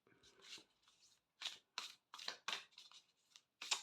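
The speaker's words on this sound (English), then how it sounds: "This felt like it needs a shuffle after each card." Tarot cards being shuffled by hand, a series of crisp papery riffles and flutters in short bursts with gaps between, close and fairly quiet.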